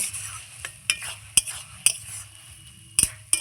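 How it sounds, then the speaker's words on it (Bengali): Banana blossom curry (mocha ghonto) being stirred in a pan, with sharp spoon scrapes and clinks against the metal at irregular intervals over a soft, steady sizzle, close and clear with no talk. "এবার আমি ভালো করে নাড়চাড় করে নিচ্ছি।"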